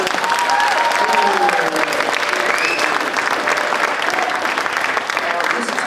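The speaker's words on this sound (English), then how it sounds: "clap louder than that for me" A crowd at an awards celebration gives loud, sustained applause that fills the room, with voices and a few cheers rising over the clapping.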